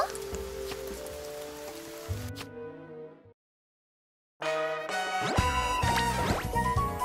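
Rain falling in the Princess Connect Re:Dive video game, a steady hiss of drops that cuts to silence for about a second, then returns with bright music and chimes layered over it.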